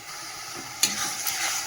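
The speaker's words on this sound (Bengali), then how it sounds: "মশলাটা তো কষানো হচ্ছে" Spices being fried in oil in a pan, with ground cumin and coriander added to the masala, give a steady soft sizzle punctuated by occasional stirring scrapes.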